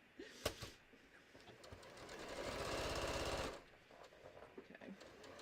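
A sewing machine quilting a fabric bucket hat runs in one steady, fast stitching burst of about two seconds, surrounded by quieter handling clicks and taps.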